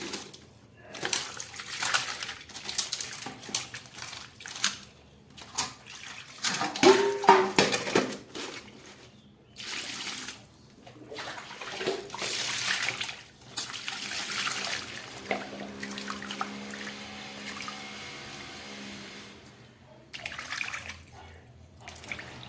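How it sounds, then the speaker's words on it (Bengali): Fish pieces with the heads removed are washed by hand in water, with splashing, trickling and rubbing sounds and occasional clinks against a pot or bowl, fairly close and without talk. "এবার এই মাছটাকে আমি খুব ভালো করে ধুয়ে নিচ্ছি।"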